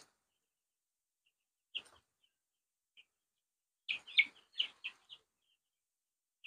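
Broiler chickens give brief, sparse clucks and chirps, one isolated call early, then a short cluster of several quick notes close together, faint against a quiet background.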